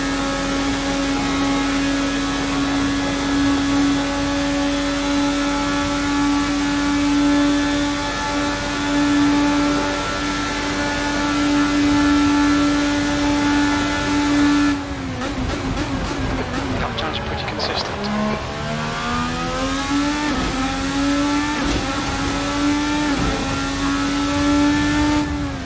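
An IR18 open-wheel race car in Assetto Corsa on the Daytona road course holds a steady droning engine note at lower revs in sixth gear, the pitch dipping and climbing again partway through, while a voice talks over it.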